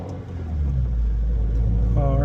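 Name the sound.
Subaru WRX with Perrin intake driving off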